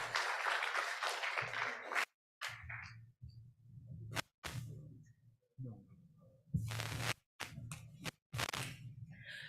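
An audience claps in a hall at the 27th ICPAU Annual Seminar. Loud bursts of applause are cut by several abrupt silent gaps, over a low steady hum.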